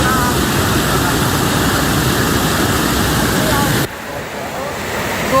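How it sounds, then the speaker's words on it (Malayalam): Floodwater rushing over the Kannamkund bridge on the Edathanattukara route in Palakkad after heavy rain, a loud continuous roar of water that drops in level near the end. "എടത്തനാട്ടുകര റൂട്ടിൽ കണ്ണംകുണ്ട് പാലത്തിന് വെള്ളം കയറിക്കൊണ്ടിരിക്കുന്നു"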